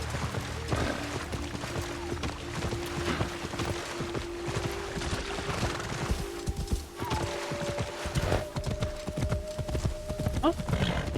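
In a video game set in feudal Japan with shinobi, a magic horse's hooves clip-clop steadily throughout, layered with game music and effects while someone talks over it.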